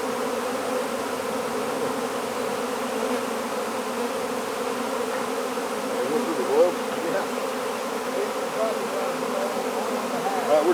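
A swarm of bees from an opened hive drones steadily and closely with a dense buzz, a few individual insects briefly louder as they pass near.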